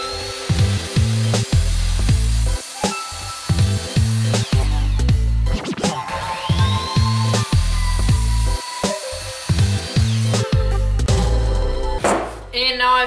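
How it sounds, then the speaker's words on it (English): A wooden board is cut to length with a power saw for a sander holder: repeated loud cutting bursts separated by short pauses, with the tool's whine rising and falling close by. "And now I'm going to cut it to length."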